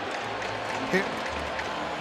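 Hockey arena crowd applauding Patrick Kane on his return to Chicago, a dense, steady wash of clapping and cheering from a large crowd, with a commentator talking over it.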